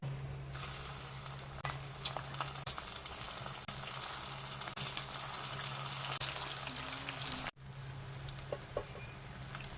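Chicken feet fry in hot reused cooking oil in a pan, giving a steady, loud sizzle with bubbling crackles that runs nearly unbroken and drops in level briefly near the end.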